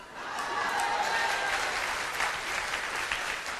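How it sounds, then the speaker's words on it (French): Applause from a church congregation during a sermon on the Virgin Mary, a steady broad wash of many hands clapping that fills the space and holds at an even level throughout. "Là, les applaudissements se font un peu moins retentissants."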